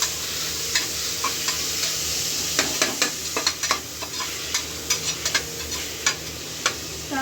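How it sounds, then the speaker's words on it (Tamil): Chopped onions frying in a pan with a steady sizzle, close by, while a utensil stirs them with a series of sharp scraping clicks. "ஆனியன் போட்டாச்சு."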